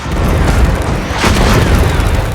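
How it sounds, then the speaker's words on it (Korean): Russian artillery shelling on a battlefield, heard as a continuous heavy, rumbling boom that is loud and low, with no distinct separate blasts. "어김없이 떨어지는 러시아의 포격"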